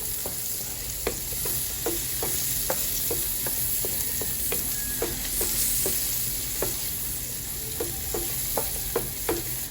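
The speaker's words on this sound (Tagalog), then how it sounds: "then saute the garlic. And then the onion." Garlic and onion sauteing in a pan for a longganisa pasta, a steady sizzle broken by regular scraping strokes of a utensil stirring, close and fairly loud with no talk.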